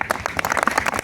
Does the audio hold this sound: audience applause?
yes